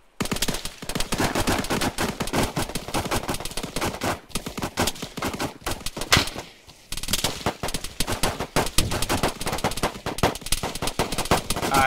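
Dense, sustained automatic gunfire and rapid single shots crackle almost without pause in an Arma 3 firefight, loud and close, with a brief lull midway before the shooting resumes.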